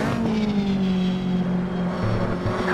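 A Caterham race car in Automobilista shoots past at speed, its engine a loud, steady whine that glides downward in pitch as it goes by close up, with no talking over it.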